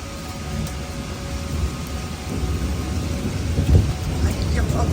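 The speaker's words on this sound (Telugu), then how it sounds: "అసలు గాలి వాన, అసలు ఉరుములు మెరుపులు" Rain pouring steadily through a thunderstorm, with gusting wind and a low rumble of thunder building toward the end.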